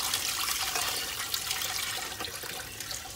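Broth pours steadily into a big pot of Louisiana-style gumbo, a continuous splashing liquid rush close by with no talk over it.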